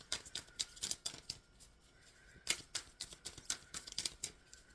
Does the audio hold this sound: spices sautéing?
no